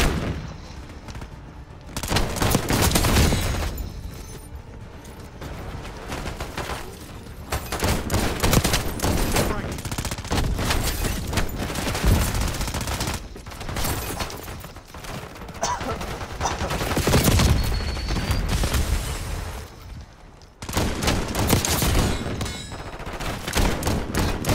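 Shotgun blasts and heavy multiplayer gunfire in Call of Duty: Black Ops 6, near and loud, with nearly continuous bursts and booms broken by a few short lulls, and occasional talk underneath.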